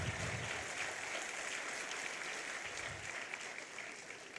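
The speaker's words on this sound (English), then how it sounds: "yeah, you can clap," Audience clapping at an honorary doctorate award ceremony, a dense steady applause from a crowd lasting several seconds, moderately loud and uninterrupted.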